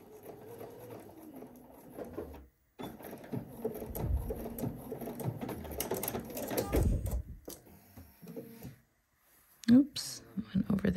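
A sewing machine runs in bursts while stitching the bodice of a dress, its whirring broken by short pauses and handling noises close by, with a voice speaking softly at times.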